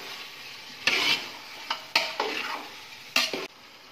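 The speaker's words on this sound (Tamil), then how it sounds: "நல்லா மட்டன் வதங்கின பிறகு இப்போ நான் தக்காளியை போடுறேன்." Tomatoes frying with mutton in a pan for Ambur-style mutton dum biryani, a steady sizzle broken by several scraping stirs of a spoon against the pan, close and loud, with no talking.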